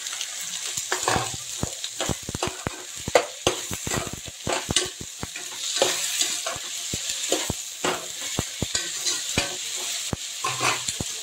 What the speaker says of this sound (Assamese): এতিয়া দিম ইয়াত কাটি থোৱা বেঙেনা আৰু আলুখিনি।